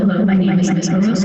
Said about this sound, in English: the delay makes it sound like there's an echo in the room